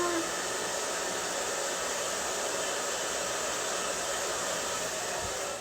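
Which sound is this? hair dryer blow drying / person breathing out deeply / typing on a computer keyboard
hair dryer blow drying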